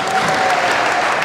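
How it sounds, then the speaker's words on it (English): A crowd of parents, guardians and staff applauds at a kindergarten graduation ceremony, a brief burst of dense, steady clapping heard close and loud. "So let's give him a round of applause."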